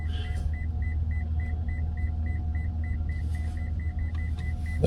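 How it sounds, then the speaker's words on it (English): A vehicle's reversing beeper sounds steadily and repeatedly over a low engine rumble while the vehicle backs up to a camping trailer at a campsite in the Rockies. "That beeping, that's the sound of me backing up to the trailer back there."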